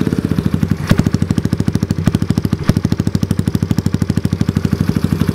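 A fuel-injected Kawasaki KLX110 dirt bike engine with a race head idles close by, giving a loud, steady, rapid thumping putter with a few sharp clacks mixed in.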